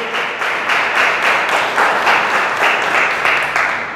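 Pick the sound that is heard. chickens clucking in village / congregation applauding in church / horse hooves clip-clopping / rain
congregation applauding in church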